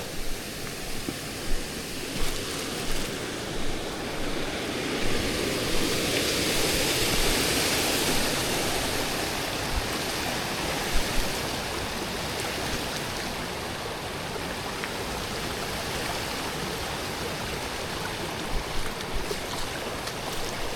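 A creek flows steadily in a constant broadband rush of water, with a few soft knocks and splashes rising briefly above the wash.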